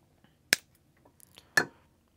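Scissors trim fly tying material on a micro balanced leech fly. Two crisp, close snips land about a second apart, with faint handling noises between them in an otherwise quiet room.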